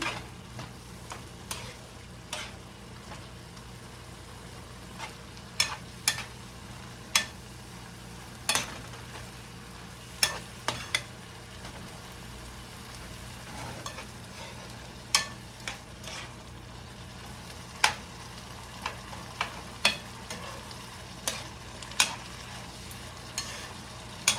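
Fried chicken with bitter gourd being stirred in a pan, a steady low frying hiss underneath sharp, irregular scrapes and clinks of the utensil against the pan, repeating every second or two.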